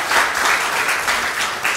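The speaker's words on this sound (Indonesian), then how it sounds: "Kasih tepuk tangan untuk Tuhan Yesus." A church congregation gives a brief, dense burst of applause for Jesus, a steady, loud, even clatter of many hands with no pauses.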